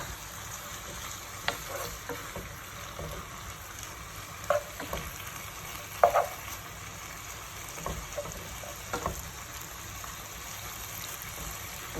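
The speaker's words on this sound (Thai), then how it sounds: "อันนี้คือเนื้อที่เราหั่นแล้วค่ะ ย่างและหั่นแล้วคั่วค่ะ" Sliced grilled beef crackles and sizzles steadily as it dry-roasts in a hot pan, with occasional scraping stirs and small pops over a constant hiss.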